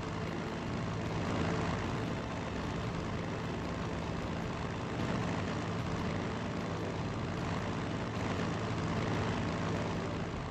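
Propeller fighter planes droning overhead in the strategy game Strategic Mind: Blitzkrieg, a dense continuous engine roar that stays steady and loud for the whole stretch.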